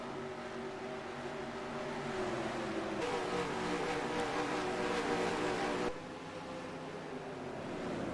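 Race trucks in a racing game at Richmond, including the 33 and 31 trucks, hold a continuous, droning engine roar at moderate level. The roar swells louder for a few seconds in the middle, then eases back.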